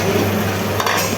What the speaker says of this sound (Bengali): তরমুজের খোসাটা, সেটাকে ভাজি করে নেওয়া হচ্ছে।